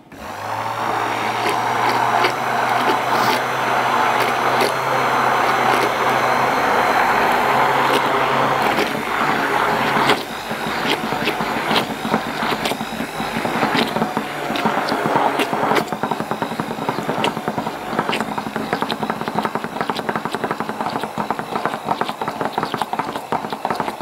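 Blender mixing chocolate tart filling after tempered cream is added: a loud whirring motor hum for about ten seconds, then clattering and scraping sounds with the motor quieter.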